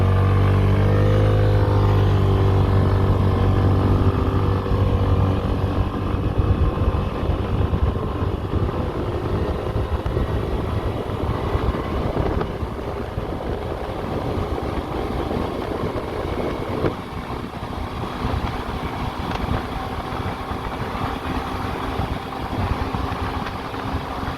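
A Suzuki Address 125S scooter engine accelerates with a rising, buzzing drone that starts close and loud, then settles into a steady, rougher hum at speed.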